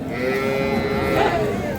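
A dairy cow with her calf at the rural Ambari cattle market moos in one long, loud, sustained low call close by, with faint market chatter in the background.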